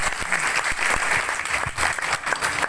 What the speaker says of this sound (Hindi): जोरदार तालियां प्रेमचंद सर के लिए